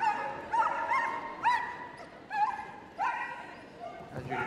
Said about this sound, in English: she says you won't be able to hear her commands because the dog gets a bit noisy.